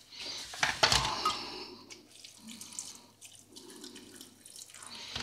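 Water runs from a kitchen tap into a dog's bowl, a splashing gush that starts loud then settles into a softer, uneven trickle with small clinks.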